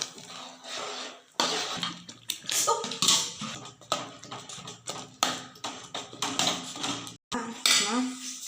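Poha semolina stirred into boiling milk and water in a pot, with a spoon knocking and scraping the metal in quick, irregular strokes, close and loud, a brief gap near the end, and some background noise mixed in.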